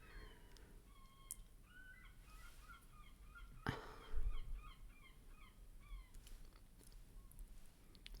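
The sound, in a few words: birds calling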